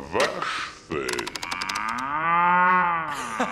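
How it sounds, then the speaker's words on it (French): Cartoon cow gives one long, drawn-out moo in a French animated children's show, loud and close, preceded by brief clicking and ratchet-like effects and a short voice. "C'est la vache. Oui, meuh."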